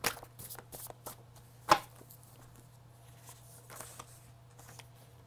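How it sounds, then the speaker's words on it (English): A deck of tarot cards being cut and shuffled, with soft papery flicks and riffles and one sharper slap near the start, fairly quiet and close. "as I cut the deck"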